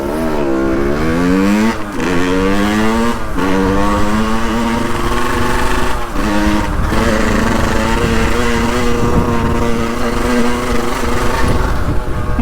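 A Yamaha 50cc moped under restoration revs repeatedly up close, its buzzy two-stroke note rising and dropping in several short bursts before settling into a sustained high whine.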